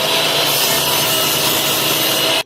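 A handsaw ripping timber lengthways for a simple rolling workbench makes a dense, steady rasping cut. It is loud and close, with no talk, and it stops abruptly at the end.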